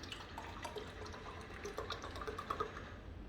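Coconut milk being poured into a container, a soft, steady liquid trickle with faint bubbling glugs and small splashes, quiet and close, with no talking.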